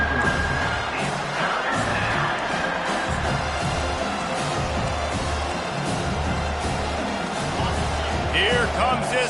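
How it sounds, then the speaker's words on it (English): The home crowd at an American football stadium swells into a sustained roar as the defense tries to get off the field on third down, with a commentator talking over the broad cheering. "Here comes this home crowd as the defense tries to get off the field on third down"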